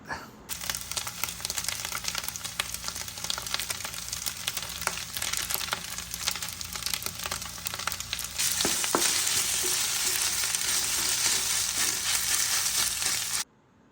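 Rice and tofu stir-fry in a hot pan, a dense, loud, continuous sizzle with scraping and stirring, rising to a harsher, brighter hiss partway through before stopping abruptly.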